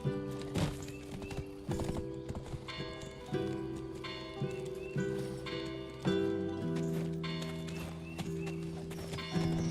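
Rhythmic hoof clops from a horse in the video game Black Desert, steady and fairly close, under layered bright music with sustained tones.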